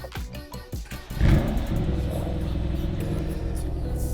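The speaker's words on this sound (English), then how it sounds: "you hear that unmistakable V8 growl" A 2020 Mercedes-AMG GLC63 S V8 engine cranks and fires up at about one second into a deep, loud rumble that settles into a steady, throaty idle.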